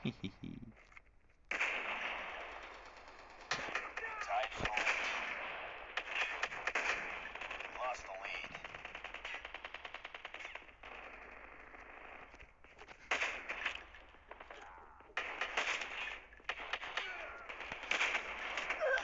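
Gunfire in the mobile shooter game Call of Duty Mobile comes as bursts of sharp, crackly shots and rapid automatic fire, fairly faint and thin, with short gaps between volleys.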